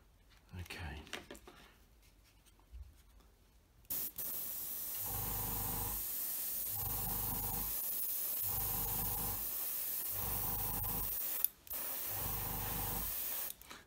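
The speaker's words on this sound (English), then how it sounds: "Let's get that into the airbrush and start getting it laid down." Airbrush spraying mid stone paint onto a model Hawker Hurricane Mk.1 Tropical aircraft, a steady close hiss broken into several short regular bursts, following some faint handling noises.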